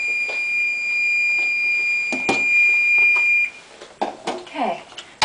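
Kitchen timer beeping steadily for about three and a half seconds while Chinese herbal medicine simmers on the stove, a bright continuous tone followed by quieter kitchen clatter and a few knocks.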